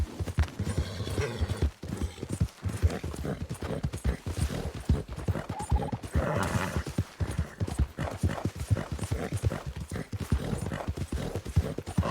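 Horse hooves clip-clop in a steady, close, driving rhythm while a horse is ridden in the video game Red Dead Redemption 2, with brief snorts or a whinny along the way.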